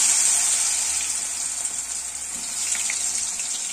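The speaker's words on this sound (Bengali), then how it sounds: "প্রথমে আমি ভাজি কাঁচকলা" Steady sizzling hiss of food frying in hot oil, continuous and fairly close.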